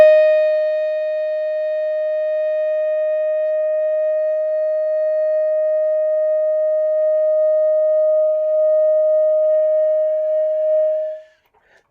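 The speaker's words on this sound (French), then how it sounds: "tu prends un Do aigu. Do aigu, tu commences bien fort et tu diminues progressivement" A saxophone holds a long high C, a pure steady tone that starts loud and eases down over about eleven seconds before stopping abruptly, played alone.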